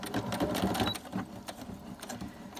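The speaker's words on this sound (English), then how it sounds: "I'm going to go round and stitch this on." A sewing machine straight-stitches a laminated pocket onto a file folder, giving a close, steady mechanical chatter with a quick repeating rhythm that runs throughout.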